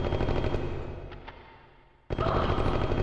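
Gunfire in Martian Gothic: Unification on PS1: a dense, steady rattle that fades and thins, drops out briefly, then bursts back in loud and continuous.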